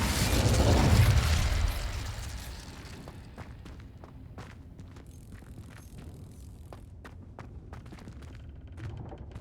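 An Incendio fire spell cast in Hogwarts Legacy erupts in a loud, roaring whoosh of flame that swells and fades over about two seconds. Scattered light clicks and footstep-like taps follow over a quiet game background.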